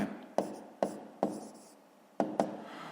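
Handwritten strokes of an equation for a fifth-grade maths exercise: five sharp, scratchy taps and scrapes spaced irregularly, close and fairly quiet, with no talk.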